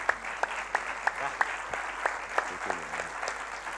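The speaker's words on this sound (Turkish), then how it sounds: "alkış diyoruz" Sharp, evenly spaced claps ring out in a steady rhythm from a small TV studio audience on a 1994 Turkish talk show, fairly close with a faint background murmur.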